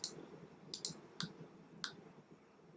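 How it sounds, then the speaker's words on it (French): Sharp, quiet clicks from a computer mouse, about five separate presses spaced irregularly over a few seconds, some in quick pairs, against faint background hiss. "je clique ici pour les sélectionner"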